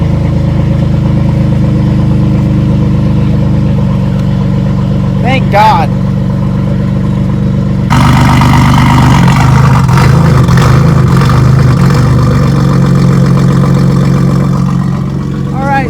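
A BMW F80 M3 engine, freshly fitted with replacement fuel injectors, runs at a steady, smooth idle, with a sharp cut in its tone partway through and people talking over it throughout.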